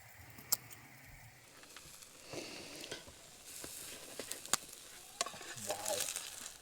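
A pepper and chorizo omelette fries quietly in a pan at a campsite, a soft steady sizzle broken by a few sharp clinks and scrapes of a utensil.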